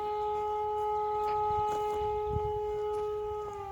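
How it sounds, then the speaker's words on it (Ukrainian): A steady, sustained air raid siren wails with a constant tone at a building site in Ukraine, sounding moderately loud and unbroken, with faint background noise beneath it. "Вже традиційна повітряна тривога не може зруйнувати наші плани"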